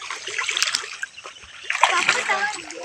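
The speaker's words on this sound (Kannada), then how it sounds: "ಇದು ಕಾಡಿಂದ ಬರೋಂತ ನೀರು" Water from a forest stream splashes and sloshes close by, with flowing stream sounds and voices talking over it.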